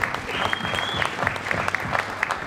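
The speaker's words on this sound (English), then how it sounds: "Give yourselves another round of applause." A live podcast show audience claps together in a sustained round of applause, with sharp individual claps popping out of the steady crowd noise and a faint whistle near the start.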